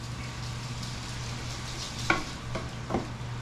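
Meat sizzles steadily in a frying pan during a stir fry, with a few sharp scrapes and clacks from stirring cutting through the continuous frying hiss and a low hum underneath; no one speaks.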